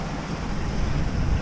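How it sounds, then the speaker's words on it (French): Waves of the Ionian Sea wash and break around a sailing boat underway with a staysail set, a continuous rushing surge mixed with wind buffeting, loud and close, no voices. "oh là les belles vagues"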